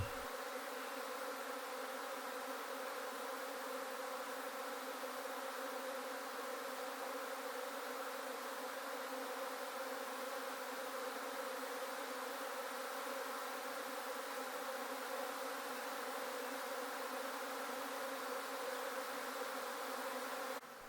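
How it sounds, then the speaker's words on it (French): A steady, droning hum of many honeybees buzzing together around a hive, continuous and even in level throughout, with no other sounds. "Tu vois, Henri, elles sont heureuses les abeilles d'Île-de-France dans ta belle ruche-tron sévenole."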